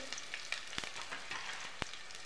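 Cumin, green garlic, green chilli and coriander sizzling in hot oil in a pan, a steady crackling hiss with occasional sharp pops and light stirring clicks, close and fairly quiet, no talking.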